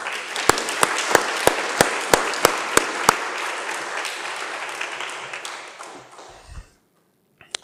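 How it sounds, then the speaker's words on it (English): Applause from a conference audience at a scientific lecture event, opening with a few loud, sharp claps and then settling into a steady wash of clapping that fades out after about six seconds. "Christian, please take my gratitude and my heartfelt applause with all of them."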